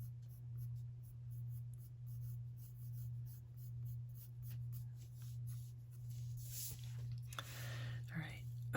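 Blender pencil coloring on paper produces soft, continuous scratchy strokes that stay fairly quiet over a steady low electrical hum, with a few sharper rubs near the end.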